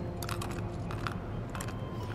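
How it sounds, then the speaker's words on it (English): Crunchy bites and chewing from a character in Final Fantasy 7 Remake, a run of crisp, close crunches in quick bursts with short pauses between, fairly quiet over a steady low background. "I don't remember the last time I actually ate something that crunchy"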